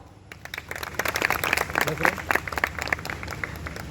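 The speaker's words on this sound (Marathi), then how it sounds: "टाळ्या वाजवा" An audience at an award ceremony breaks into applause, a dense rush of many hands clapping that builds and holds, while a voice talks over it.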